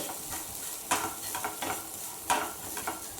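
A pan of chicken cutlet filling with turmeric, chilli powder and spices is stirred with a spoon, giving soft scraping strokes and quick clacks over a low, steady sizzle, close and fairly quiet.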